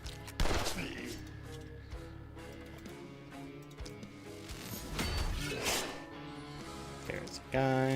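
Gunfire in the dark-fantasy strategy game The Last Spell, a dense burst of overlapping shots and impacts at about half a second and again near five seconds, over a continuous musical game score.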